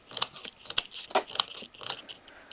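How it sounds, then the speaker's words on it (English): A round pushed into a Ruger 10/22 magnum magazine, giving a close, quiet run of small metallic clicks, snaps and scrapes spread over a couple of seconds. "let's go ahead and try to see what it feels like if the bolt was going to push the round in."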